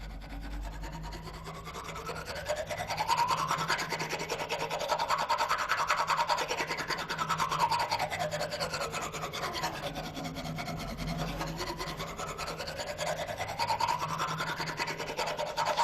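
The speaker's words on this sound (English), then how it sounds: "I've got a mallet on the drum head itself, and then I'm using another mallet and scraping on the mallet" One mallet scraped against another mallet resting on a bass drum head, a continuous close grinding rasp whose pitch slowly rises and falls in long sweeping waves, with a low resonant drone under it.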